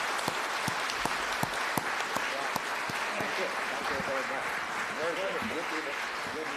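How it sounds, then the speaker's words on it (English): An audience at an academic event on global order and US-China relations claps for two scholars, with sparse individual claps building into steady, moderate applause while voices talk over it. "Please join me to give a very big applause to our two prominent scholars."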